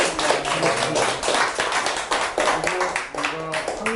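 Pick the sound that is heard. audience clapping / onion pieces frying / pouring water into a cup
audience clapping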